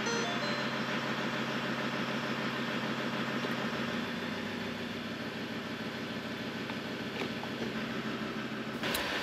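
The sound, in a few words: pickup truck engine idling while running through gears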